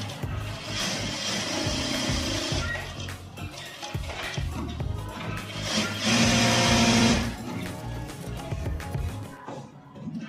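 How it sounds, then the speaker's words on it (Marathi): A sewing machine runs in continuous bursts while stitching a secret pocket on a pair of pants, its needle motor whirring and rattling close by, briefly speeding up in the middle. "याच्यावर एक एक दापटी मारून हे आपल्याला शिलाई मारून घ्यायची."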